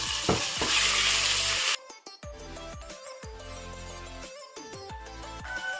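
Ginger, garlic and green chilli paste for a Kerala-style prawn curry hits hot oil with a loud sizzle, followed by bursts of sizzling and stirring scrapes against the pan, close by.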